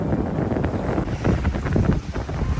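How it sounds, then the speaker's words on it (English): Steady wind noise roars across the microphone aboard a sailboat heeled over in about 16 knots of wind, bound toward the Bahamas through Bimini; a continuous broadband rush fills the whole stretch with gusty swells and no talk. "About 16 knots of wind."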